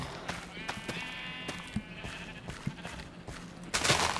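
Sheep bleating in the Minecraft video game, a few short wavering bleats mixed with scattered clicks and clattering game sounds, a louder burst near the end.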